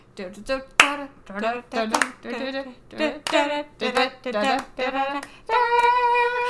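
Desert-level Mario video game music plays with sharp, bright hand claps cutting through at intervals among bouncy, tuneful melodic phrases.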